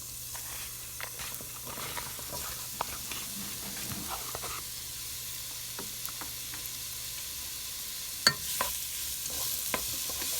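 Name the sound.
sauteing peppers and onions in olive oil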